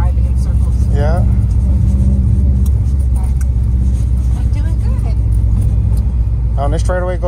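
Subaru WRX STI with a manual gearbox driving at low speed, its engine a steady deep rumble heard from inside the cabin, with people talking over it throughout.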